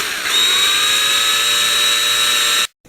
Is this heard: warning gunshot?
no